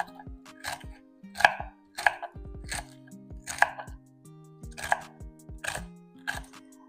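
Ingredients for turkey soup are chopped on a board with a knife, crisp repeated knocks in an uneven rhythm. Quiet low music plays underneath.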